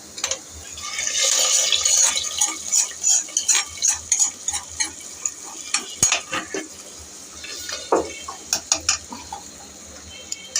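Chopped garlic browning in hot oil for a beef paya stew, with a bright sizzle followed by a run of rhythmic stirring scrapes and knocks against the pot, fairly close and moderately loud.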